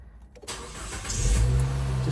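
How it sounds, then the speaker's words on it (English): A Nissan Note's engine cranks and fires up after a quiet moment, settling into a steady, loud idle rumble close by. "Just gonna get the car running."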